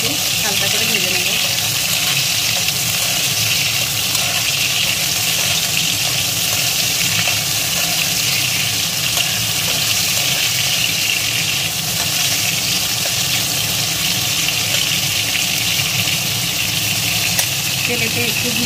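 Ridge gourd pieces fry lightly in oil in a pan for a potato-and-poppy-seed dish, giving a steady broadband sizzle with a low rumble beneath it, constant and fairly loud throughout.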